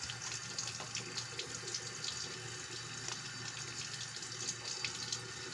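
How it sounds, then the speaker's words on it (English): Tap water runs steadily into a sink during handwashing, a continuous close splashing hiss with no talk over it. "I'm gonna wash my hands a third time."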